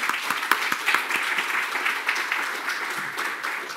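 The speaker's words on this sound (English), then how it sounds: "So a great applause to the three hubs." Steady audience applause at a conference fills the room, a dense, even wash of many hands clapping, fairly close and sustained without talk.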